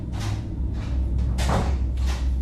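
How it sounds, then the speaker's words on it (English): Basement door opened and closed over and over, a series of four or five close, loud swinging scrapes and soft thuds with brief gaps between them, no voices. "It is, in fact, the sound of a basement door being opened and closed repeatedly."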